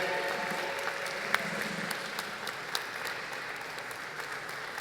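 Crowd applauding at the unveiling of the plaque for the Nelson Mandela Cruise Terminal inauguration, a continuous outdoor wash of clapping with a few sharper individual claps standing out.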